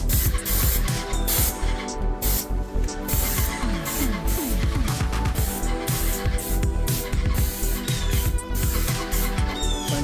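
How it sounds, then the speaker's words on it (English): A paint sprayer coats a fence during a restoration job, a loud continuous spray hiss running steadily throughout with brief pulses and no talk. "So we have all our fence sprayed."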